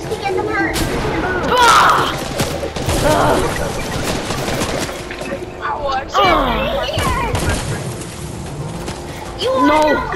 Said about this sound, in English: I'll shoot him, dude, just to get them hurt